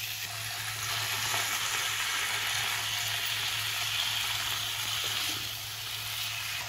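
Sliced potatoes are stirred in a hot pan on a gas stove for a Marathi potato bhaji. The sizzle and frying stay steady and close throughout, with no talk.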